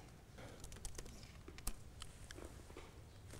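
Faint typing on a computer keyboard during a conference talk on array programming: scattered soft clicks and taps at an irregular pace, with a few sharper keystrokes standing out from the quiet room background.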